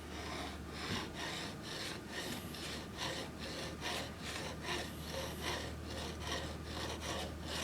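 The flat back of a chisel is rubbed on a sharpening stone, making a close, steady rasping with rhythmic back-and-forth strokes and no talking.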